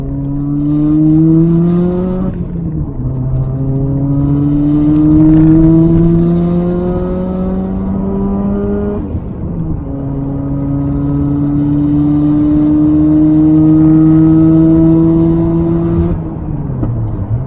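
A turbo Toyota Corolla pulls along a highway through repeated gear changes, each gear a rising engine drone followed by a brief dip. Light rattles sit under the loud, steady cabin sound.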